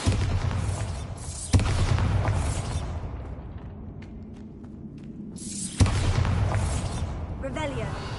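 Bombarda blasting spell explosions in a Harry Potter video game, two sharp loud booms several seconds apart, each with a long rumbling tail, with a voice calling out spells around them.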